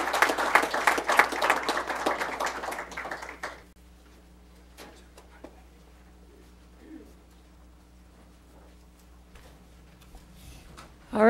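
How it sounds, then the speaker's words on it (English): Audience applause at a school board of education meeting honoring visiting students, a dense burst of clapping for the first few seconds that then stops, leaving a quiet room with faint scattered noises. "let's give them one more round of applause"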